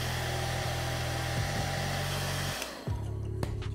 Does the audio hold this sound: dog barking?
no